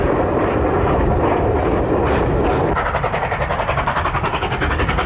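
A Chinese QJ series steam locomotive hauls a train past with a loud, rushing rumble, and a rapid rhythmic clatter of wheels and cars emerges partway through.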